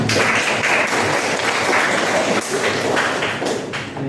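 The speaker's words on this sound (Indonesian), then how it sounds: "Oke, terima kasih tepuk tangan." Audience applause at a motivational learning session, a dense, loud, continuous burst of clapping lasting several seconds before tapering slightly at the end.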